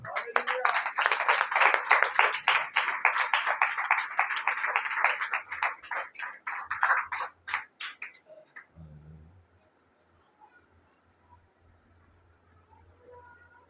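Church congregation at a Pakistani service claps together in a dense, loud burst for about eight seconds, thinning into scattered claps before stopping, followed by a faint low hum.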